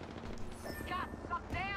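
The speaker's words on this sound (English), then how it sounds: "He's shooting at me." Gunfire in the video game Apex Legends, bursts of shots and impacts mixed with game effects and a voice talking over the action throughout.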